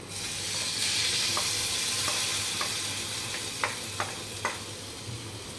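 Shallots and curry leaves fried in hot oil are poured over a Thrissur-style roasted-coconut fish curry, giving a steady, close sizzle with a few small clinks near the end.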